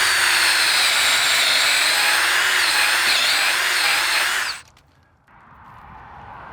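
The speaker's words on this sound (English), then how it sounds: "drill a hole with the drill here" A loud, steady whine of a power drill boring into the bark of a big leaf maple tree for several seconds, then cutting out abruptly and leaving quieter background noise.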